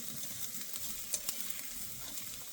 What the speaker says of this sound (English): I've been cooking them on high, just kind of stirring them.